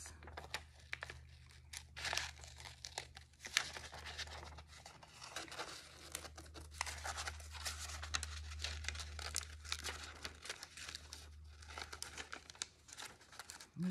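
Paper pieces for a snail craft are cut out with scissors, with faint, close crinkling and rustling of the paper and soft snips going on steadily throughout, quiet overall.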